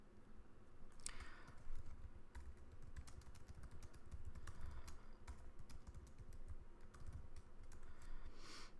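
Quiet, steady typing on a computer keyboard, with soft irregular keystrokes close by and no voices.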